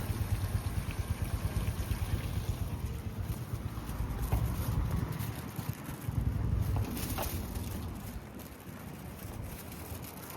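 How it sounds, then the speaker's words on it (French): Small waterfall splashing in a river in the mountains near Kyoto, a steady broadband rush of water with occasional wind buffeting on the microphone. "avec la petite cascade dans la rivière et tout"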